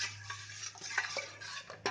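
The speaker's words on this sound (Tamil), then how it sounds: "கொஞ்சம் கொஞ்சமாக சேர்த்து நல்லா கலக்கிட்டே இருக்கலாம்" A homemade herbal soap mix of coconut oil being stirred in a steel vessel, giving soft, close scraping and swishing strokes in an uneven rhythm, faint and with no talk.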